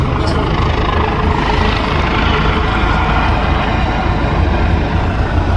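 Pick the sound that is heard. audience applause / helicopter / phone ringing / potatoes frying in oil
helicopter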